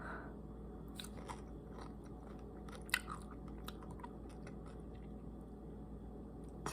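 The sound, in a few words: crunching and chewing pickles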